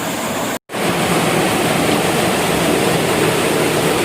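A waterfall at Robber's Cave (Guchu Pani) in Dehradun roars as a loud, steady wash of rushing water close by, broken only by a brief cut near the start.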